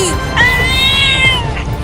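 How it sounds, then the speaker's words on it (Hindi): Two cartoon cats meow on a railway track as a train approaches, giving a few drawn-out, wavering high meows in sequence over a steady low rumble. "2 बिल्लियाँ ट्रेन की लाइन पर है और ट्रेन जा रही है उनके पास"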